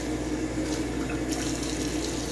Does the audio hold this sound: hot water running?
yes